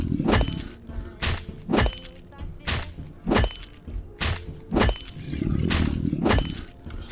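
A crowbar in a video game strikes objects again and again, about ten heavy thuds and cracking impacts at an uneven rhythm, each with a sharp broadband crack over a low thump.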